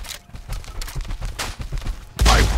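Gunshots from the game Blood West, a few sharp bursts over a busy mix of game sounds. A heavy, loud blast closes the final half-second.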